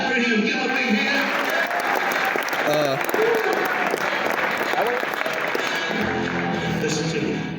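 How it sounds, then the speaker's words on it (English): An audience breaks into loud, sustained applause for a contestant called up front, filling the room evenly for several seconds before tapering near the end. "Clap for him. Give him a big hand."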